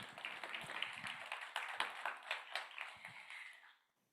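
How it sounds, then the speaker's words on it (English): An audience applauds young entrepreneurs at a youth food lab final event. The clapping is dense and steady for about three and a half seconds, then tapers quickly into silence. "I would request that we give our young entrepreneurs or our young people another round of applause,"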